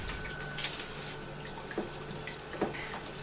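Water trickles into a thick flour-and-margarine sauce mixture, a steady, fairly quiet running splash broken by a few soft clinks and drips, with no voices.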